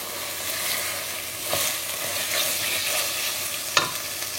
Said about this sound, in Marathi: तरी बरो फ्राय जाला मसाला आनी सायजी सुटोंक लागली.